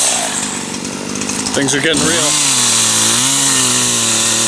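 A chainsaw cuts through wood out in the bush, its loud engine dropping and rising as it bites in, then holding a steady roar. A person speaks briefly over the saw.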